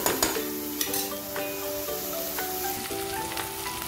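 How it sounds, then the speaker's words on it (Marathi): Chopped onions sauté in a pan until reddish for a matar paneer pulao, giving a soft, steady sizzle with faint stirring beneath sustained tonal notes. "थोडेसे लालसर होईपर्यंत याला परतून घेऊया कांद्यांना"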